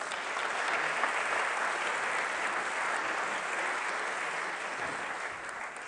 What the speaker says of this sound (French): oui, vous pouvez les applaudir.